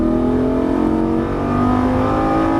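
A race car on the Las Vegas Speedway pulls hard at full throttle, a loud, close, continuous engine drone with steady rising tones and no pauses.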